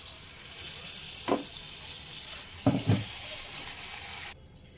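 Hot water hits mutton and spices frying in a pot for shahi haleem, raising brief loud hissing bursts over a constant close sizzle before the sound cuts off.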